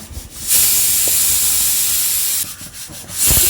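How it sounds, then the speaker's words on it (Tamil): A pressure cooker holding dal sambar lets off its whistle as a loud, roaring rush of steam that lasts about two seconds, then dies away before a second burst begins at the end. "குக்கரில் ரெண்டு மூணு விசிலே வந்துருச்சு"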